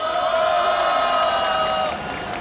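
Crowd at a labor union sit-in protest rally cheering and clapping together, a loud sustained roar with whoops and raised voices throughout, easing slightly near the end.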